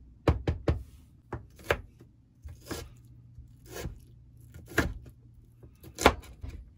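A knife chops colorful pickled onions on a cutting board, a series of crisp, irregular chopping strikes with brief pauses between them, close and fairly loud against a quiet background.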